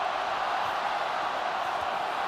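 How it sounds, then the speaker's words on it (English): A stadium crowd at the Scotland v Argentina rugby match roars in a steady, broad wash of cheering that holds without pause. "the crowd is lifted for once"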